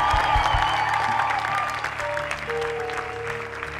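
Church congregation applauding dancers at an Easter service, a steady dense wash of clapping from a crowd with held musical tones ringing underneath.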